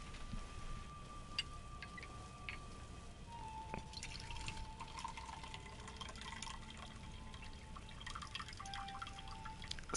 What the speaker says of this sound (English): Let me pour my tea.